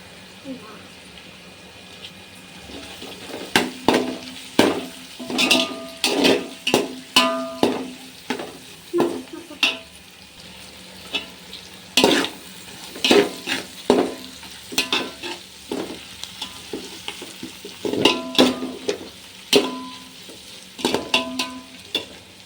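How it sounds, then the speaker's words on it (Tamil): Onions for chicken biryani sauté in a pan, with repeated close spatula scrapes and clinks in an uneven rhythm over continuous sizzling throughout. "இப்போ வெங்காயம் கொஞ்சம் ப்ரௌன் ஆகிற வரைக்கும் வதக்கணும்."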